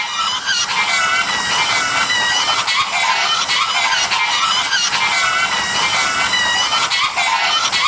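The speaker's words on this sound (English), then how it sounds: "makes that horrible screaming hen noise like a calling card, which echoes around the streets" A shrill, screaming hen cry used as a film sound effect, loud and continuous, with repeated harsh squawking calls echoing as if through streets and a brief spoken voice over it.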